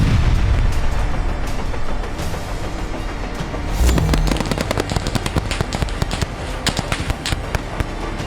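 Rapid bursts of gunfire crackle and pop over a constant rumble in the Russia-Ukraine war, with a heavy boom midway and sharp shots continuing to the end.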